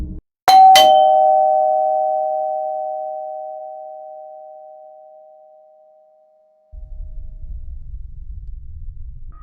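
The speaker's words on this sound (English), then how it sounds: "The doorbell rang." A two-note doorbell chime strikes once, loud and clear, its tones ringing out and fading slowly over several seconds, followed by silence and then a low, steady rumble of background noise.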